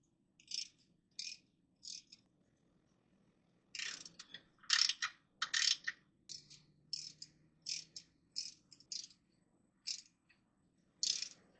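Ratchet wrench clicking in short bursts while tightening differential cover bolts on a 2003 GMC Sierra, a dozen or so brief rattling clicks spaced irregularly, faint and close with quiet gaps between.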